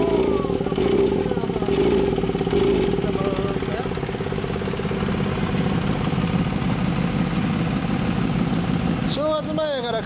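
A loud 1990 Yamaha FZR250 motorcycle engine with an aftermarket custom exhaust runs close by with a throaty, rumbling exhaust, rising briefly in revs, while people talk over it.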